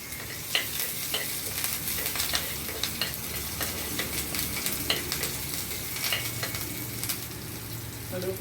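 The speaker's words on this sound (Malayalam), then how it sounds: "കടുക് പൊട്ടിയതിന് ശേഷം കുറച്ച് മുളക് പിടിക്കും" Mustard seeds spluttering in hot oil while tempering for mampazha pulissery, a continuous crackling sizzle with scattered sharp pops and a faint stirring clatter, heard close and alone.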